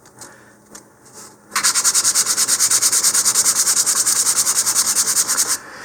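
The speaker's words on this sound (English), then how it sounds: "Here I'm using 220 grit sandpaper." Sanding a model rocket with 220 grit sandpaper: after a few soft handling rubs, quick rhythmic back-and-forth strokes rasp loudly and evenly up close, about two dozen in a row, then stop.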